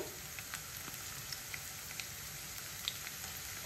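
Chopped garlic fries in a pan until golden, a quiet, steady sizzle with tiny faint pops and crackles scattered throughout.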